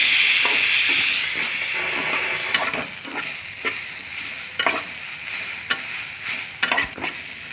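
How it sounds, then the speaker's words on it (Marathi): Tomatoes frying in a pan for a traditional village-style mutton rassa: a loud steamy hiss at first that settles into a softer sizzle, broken by repeated close scraping stirs. "टमॅटो चांगले त्याच्यात तळून घेते फ्राय करून घेते"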